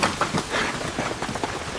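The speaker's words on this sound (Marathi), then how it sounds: "पाऊस आला." Rain falls in a brief burst of broadband patter with uneven surges and faint drop-like ticks, fairly loud and with no voices.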